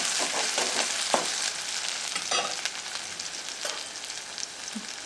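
Two onions fry in a pan for puri bhaji, browning with a steady close sizzle and occasional scraping stirs.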